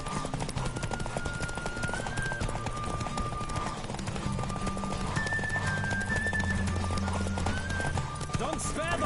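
Steady hoofbeats of a galloping horse in The Witcher 3: Wild Hunt run throughout, with music and voices layered over them and a brief whinny near the end.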